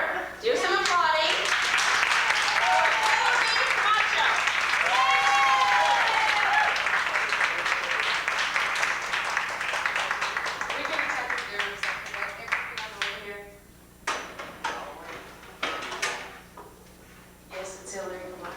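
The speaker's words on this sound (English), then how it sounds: "Do some applauding." A stand-up comedy club audience in New York bursts into loud, dense applause with cheers and voices, then thins over several seconds into scattered, fading claps.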